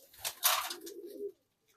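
A pigeon coos once, a soft low throaty rolling call, preceded by brief rustling and wing flutter nearby.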